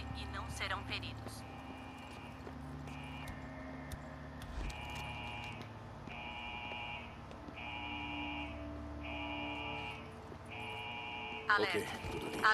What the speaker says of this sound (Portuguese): Este é um alarme.